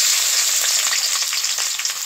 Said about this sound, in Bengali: প্রথমে পেঁয়াজ মরিচ ভেজে নেব।